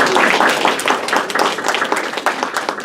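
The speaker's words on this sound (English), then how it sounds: "Would you all please give a big round of applause to Paul and Mary Margaret?" An audience gives a round of applause, dense steady clapping from many hands at moderate loudness with no voices over it.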